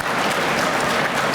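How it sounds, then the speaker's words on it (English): Brief burst of audience applause at an aviation advocacy event at the Oklahoma Capitol, dense steady clapping from a crowd, fairly loud throughout with no talking. "Could we give Sandra a big round of applause?"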